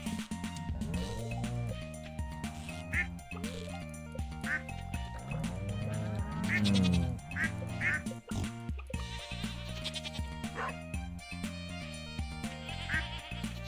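Farm animals in the video game Stardew Valley, with a duck quacking repeatedly alongside bleating goats and game music, busy overlapping calls from a crowded pen over several seconds.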